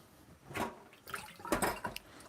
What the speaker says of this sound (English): And then add some water